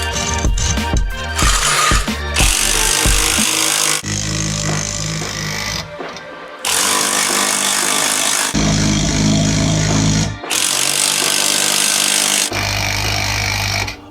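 An older Ryobi 300 ft-lb impact wrench drives a car's scissor jack in loud bursts of rapid hammering, separated by brief pauses, with ratcheting clatter up close.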